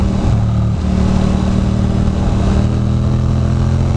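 A motorcycle engine runs on a twisty back road, a steady loud mid-pitched drone held at cruising speed close to the rider, with wind noise, no talk.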